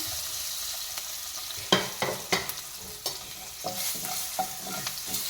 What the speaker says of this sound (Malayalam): ഉലുവയെ ഒന്ന് ഫ്രൈ ചെയ്തെടുക്കാൻ വേണ്ടിയിട്ട് ഇനി നമുക്കിതിലേക്ക് എടുത്ത് വെച്ചിട്ടുള്ള ഉണക്കമുളക് ഇട്ട് കൊടുക്കാം